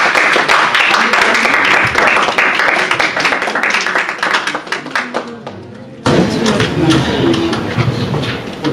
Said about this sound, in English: Round of applause for them, guys